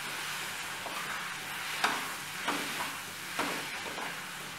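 Onions and tomatoes with chilli powder sauté for a spicy chutney, a soft, steady sizzle broken by a few light scraping stirs, fairly quiet and without talk.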